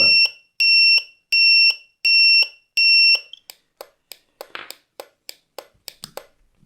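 Electronic buzzer on a homemade bicycle turn signal: five loud, steady beeps in a regular on-off pulse, followed by a quicker run of sharp clicking ticks, close up with no talk.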